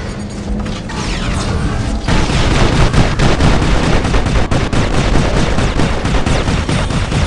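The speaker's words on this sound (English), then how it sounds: "I'm trying to shoot where the gap is in the shield so I can actually deal damage." Dense, continuous automatic weapon fire from the mech combat game War Robots, loud and unbroken, with the barrage growing heavier after a brief lighter opening and a mechanical clatter running underneath.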